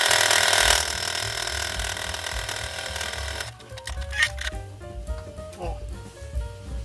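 A domestic sewing machine stitches a seam with the standard presser foot, its low mechanical chugging running steadily underneath while a voice is heard over it in the second half.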